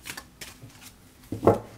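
Tarot cards being shuffled in a few quick, dry papery bursts, close by, ending in a louder flurry.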